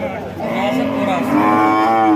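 A dairy cow, sold with her calf at a cattle market in Jessore, lets out a loud, drawn-out moo right beside the listener, rising and holding steady for about two seconds.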